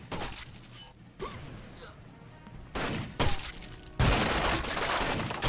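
A frag grenade going off in the video game Rainbow Six Vegas 2, amid gunfire and crashing impacts, with a loud blast near the end and game voices talking before it.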